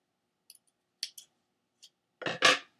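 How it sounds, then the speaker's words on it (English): Scissors snip through a t-shirt sleeve in a quiet room, a few short isolated clicks followed by two louder, closer cuts at the end. "A little snip to the left, or to the front, and a little snip to the back."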